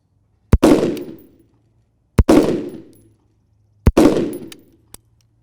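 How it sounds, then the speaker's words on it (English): Three rifle shots fired in a group while zeroing an EOTech sight on a range, each a sharp loud crack followed by a short rolling echo, evenly spaced about a second and a half apart. "We had him send a next shot group."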